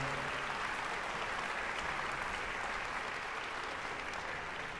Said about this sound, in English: I think we ought to give ourselves a great big round of applause for that.